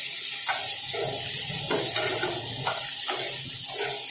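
Onion sautéing in a pan for a cauliflower-greens vegetable dish, a steady close sizzling hiss throughout with faint intermittent stirring scrapes and knocks of the spoon.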